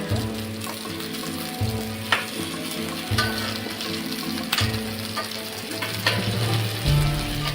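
Stuffed kantole (spiny gourd) frying steadily in a pan, a continuous close sizzle with occasional crackles and soft stirring or turning clatters.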